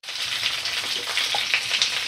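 Cauliflower and potato pieces frying in a pan on a medium flame, giving a steady, close, even sizzle with faint crackles and no voices.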